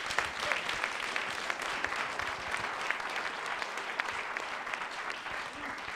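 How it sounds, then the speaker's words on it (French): An audience gives a round of applause for astrophysicist Jean-Philippe, a fairly soft, steady wash of clapping with a few sharper individual claps standing out over about six seconds. "On peut applaudir Jean-Philippe."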